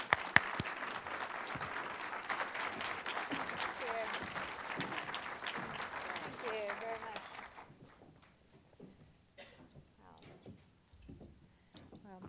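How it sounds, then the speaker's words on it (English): An audience claps in a warm round of applause welcoming Tory Burch at Northeastern University, dense and sustained for several seconds, then tapering off into scattered claps and quiet room noise. "bring up Tory Burch with a warm round of applause"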